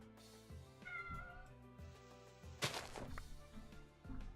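A pet cat, one of three in the house, meows for food, a couple of close plaintive meows over low indoor hum, with a sharp thump partway through.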